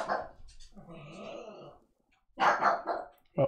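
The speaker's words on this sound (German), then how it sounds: "Was ist mit dem Hund los?" A dog in the MineClone5 Minetest game growls and barks in short bursts, a low rumbling growl in the middle, then sharp barks after a brief silence, close and moderately loud.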